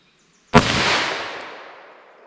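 A single sharp .357 Magnum gunshot firing an Inceptor ARX plastic bullet outdoors, loud and sudden after a short silence, with a long echoing tail that fades away.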